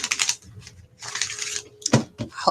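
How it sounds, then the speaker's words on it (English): Tarot cards being shuffled close up in short bursts, giving crisp riffling and tapping with a couple of sharper slaps near the end. "I think you can hear me shuffling over here, just activating the energy of the cards"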